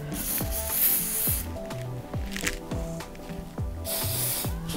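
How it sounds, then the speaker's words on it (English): Long hissing bursts of Bed Head hold hairspray, close and loud, sprayed onto wig lace, starting and stopping a few times over a rhythmic musical backing. "I'm just gonna spray directly on the lace."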